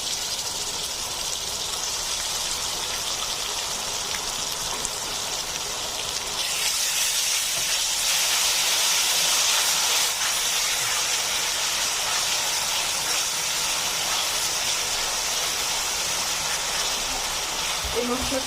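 Mixed spice masala sizzles in hot oil with browned onions, a steady bright hiss that swells louder partway through as the spices fry, continuous and close.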